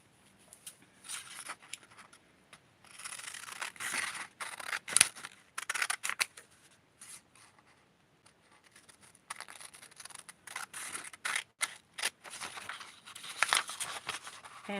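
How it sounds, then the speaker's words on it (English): Scissors cut through a paper pattern for a 6-inch doll's halter dress and tights, with irregular bursts of snipping and paper crinkling separated by short pauses, close up and without talk. "So now I'm going to cut this so that you can see."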